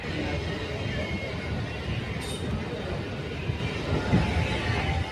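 Steady rumble and rattle of a near-empty passenger train in motion, heard from inside the carriage, with a continuous low roar and faint clinks throughout.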